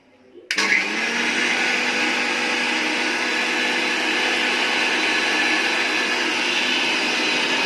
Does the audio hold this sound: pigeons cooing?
no